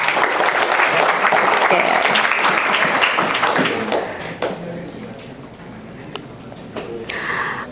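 A crowd at a DevOps community meetup with a bank applauds loudly for about four seconds, then the clapping dies away, and a brief spoken word is heard.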